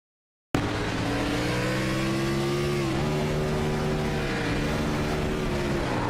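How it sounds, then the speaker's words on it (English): A race car engine in an Xfinity Series racing video game at Indianapolis Motor Speedway drones steadily at a fixed pitch, stuck in gear, dipping briefly a couple of times without climbing or accelerating. "You can hear that the car just getting stuck in gear and just not going at all."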